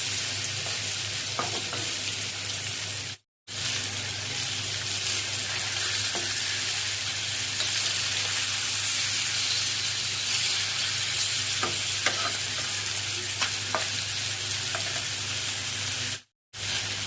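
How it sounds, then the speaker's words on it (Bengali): Small marinated fish sautéed in a pan, gently stirred over a loud continuous sizzle, with light scraping taps scattered throughout and two brief silent breaks. "আলতো হাতে মাছগুলো কিছুক্ষণ কষিয়ে নিব"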